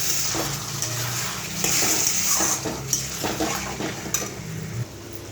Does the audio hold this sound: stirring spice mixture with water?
yes